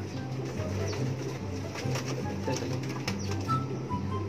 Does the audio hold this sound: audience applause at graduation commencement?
no